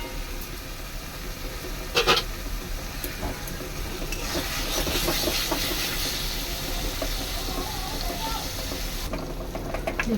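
Chicken stomach and liver masala frying uncovered in a pan, giving a steady, fairly loud hissing sizzle throughout, with a brief clatter near the start and the sizzle swelling a little midway.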